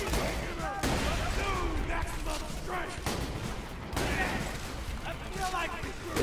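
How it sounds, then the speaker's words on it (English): A shotgun fires repeatedly in the video game Borderlands 2, with dense overlapping blasts and gunfire running steadily throughout, some talk mixed in. "The shotgun does not shoot where, where I'm pointing."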